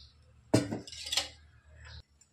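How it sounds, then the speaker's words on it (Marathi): Two ladles of oil go into a hot kadhai for tempering a radish sabzi, a short metallic clink followed by a brief sizzling hiss lasting about a second and a half, close and alone. "कढई गरम झाले, आता टाकत आहोत आपण फक्त 2 पळ्या तेल।"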